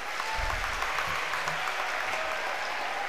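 Audience applause at the opening ceremony of an annual cultural festival, a steady wash of many hands clapping throughout, fairly loud and continuous, with a few faint low voices mixed underneath.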